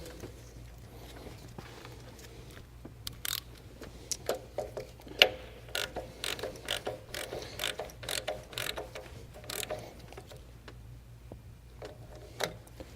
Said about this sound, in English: Tighten it down with the ratchet